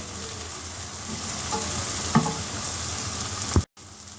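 Green chilli pieces frying in oil alongside curry leaves for a cluster bean curry, a steady close sizzle with a few stirring clicks and knocks before it cuts off abruptly near the end.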